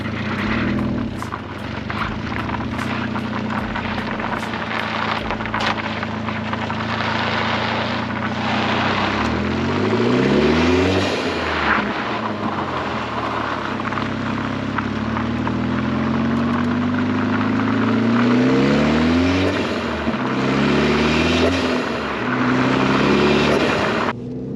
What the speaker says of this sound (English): I'm gonna set you up for one last little tire spin session while we leave